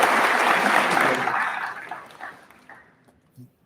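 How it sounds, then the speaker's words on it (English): Audience applause at a ribbon cutting ceremony for a dental clinical training facility, loud and sustained at first, then thinning and fading out over a few seconds. "Let's give them a well-deserved round of applause."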